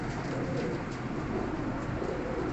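A Batera pigeon coos softly and steadily, close up, over a dense, noisy background with no talking.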